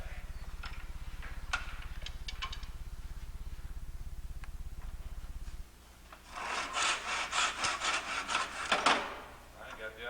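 A piece of wood is cut by hand for a napkin holder. A steady low hum runs first, then a loud burst of quick, rhythmic back-and-forth saw strokes rasps close by for a few seconds.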